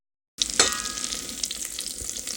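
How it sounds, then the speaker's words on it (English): Butter and chopped potatoes hit a hot Instant Pot on sauté, a sudden sizzle that starts abruptly and keeps crackling and spitting steadily for a couple of seconds, close and fairly quiet. "Just throw in some butter, some chopped potatoes."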